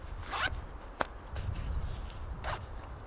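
A tent zipper on a Lasci Outdoors Boreal Basecamp tent shelter is pulled in a few short rasping strokes, close and crisp, with a sharp snag in the middle and quiet handling between the pulls.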